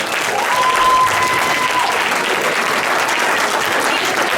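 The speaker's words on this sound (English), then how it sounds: "Give yourselves a round of applause" A banquet audience at a Clifton football and cheerleading awards night bursts into sustained, dense applause that stays loud and steady throughout, with a brief tonal whistle-like note early on and scattered voices mixed in.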